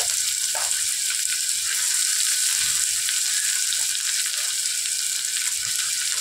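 Sliced onion frying in hot oil with fennel seeds and curry leaves for a vegetable kurma, a steady close sizzle with faint stirring, no talk.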